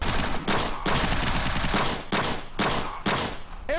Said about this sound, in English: One single sound effect, used for the most useless gun in the game, the pistol.